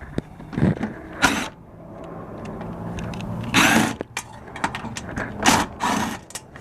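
3/8 bolts are loosened and removed from a Briggs push mower deck during a flywheel brake repair: bursts of quick ratchet clicking and metallic clanks, separated by short quieter pauses, close by.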